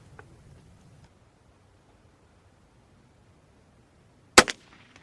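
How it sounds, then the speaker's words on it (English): A single sharp, loud report from a Savage Model 42 firing .22 caliber 60-grain subsonic ammunition at 25 yards, sounding after several seconds of near silence, followed by a short trailing echo. "22 caliber, 60 grain, SSA or SSS sniper subsonic. 5 shots, 25 yards."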